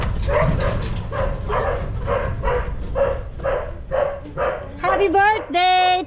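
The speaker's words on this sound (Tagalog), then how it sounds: "Ayan ang mga aso." Several dogs bark outdoors in a steady, rhythmic series of close, loud barks under continuous chatter and background noise, then a few higher whines and yelps rise near the end.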